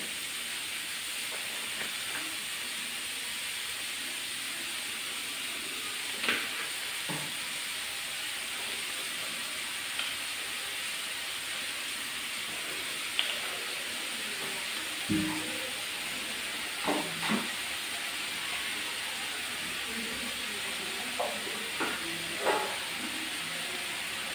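Onions with soy sauce, pepper and salt cook in a pan, giving a soft continuous sizzle with scattered faint clinks and scrapes from stirring, quiet and close throughout.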